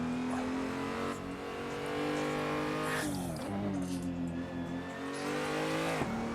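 A race car engine in the Assetto Corsa sim on the Nordschleife holds a steady buzzing drone, then drops in pitch under hard braking before revving again, with a brief tire squeal, close and continuous.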